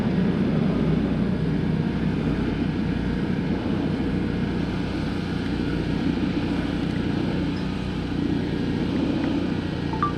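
Aircraft flying a missing man dedication pass at the 2024 Greater Binghamton Airshow, a steady propeller-like drone heard at a distance for ten seconds without talk.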